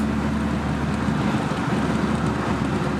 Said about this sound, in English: I know there's a lot of wind noise because this thing does not have AC.